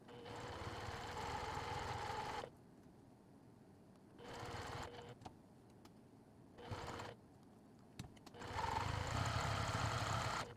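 Sewing machine top-stitching ribbon onto a fabric bag strap, running in three bursts of steady rapid stitching with quiet pauses between, close and fairly soft.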